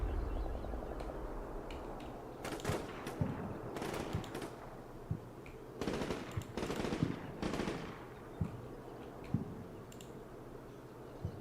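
Machine gun fire in the war game Combat Mission: Black Sea, heard as faint, distant bursts of rapid shots with scattered single cracks and clicks over a low background rumble.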